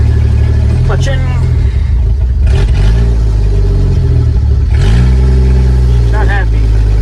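An International Harvester L-130 truck engine idles loudly up close, then revs up twice in rising surges before settling, with someone talking over the running motor.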